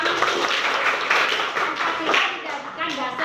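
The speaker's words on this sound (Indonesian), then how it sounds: "Tepuk tangan dulu ya." A classroom of students claps for a classmate's answer during a lesson, a lively burst of many hands that swells and fades in waves.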